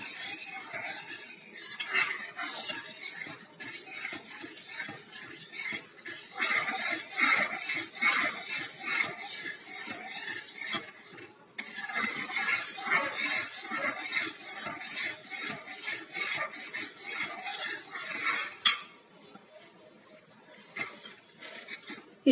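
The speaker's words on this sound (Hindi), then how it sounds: "अब इसको हम लगातार अच्छी तरह से चलाते रहेंगे ताकि ये अच्छी तरह से पक जाए।" Orange jelly mixture being stirred steadily in a pot as it cooks, giving a continuous soft scraping and clinking of a spoon against the pan with small splashy knocks, moderately loud and close, with no talking.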